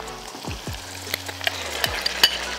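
Chicken with onion, chili, black pepper and salt fries in a pan while being stirred, giving a close, steady sizzle broken by scraping stir strokes and a few sharp clicks.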